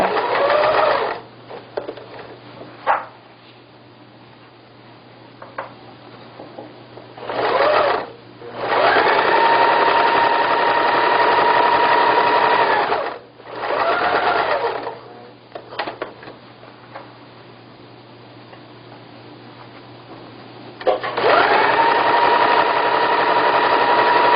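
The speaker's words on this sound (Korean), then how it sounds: "다시 노루바를 내린 후에 박음질 하시면 되겠습니다" A sewing machine stitches a traditional Korean-style floor cushion in several bursts of loud, even whirring, with quiet pauses between runs.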